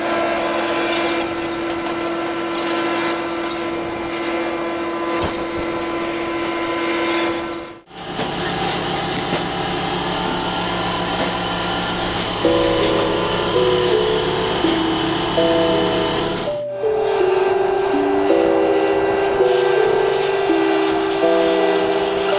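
Machine cutting along the outside of a marked line, a continuous loud grinding hum with two brief drops in sound, then shifting tonal whines as the cut carries on.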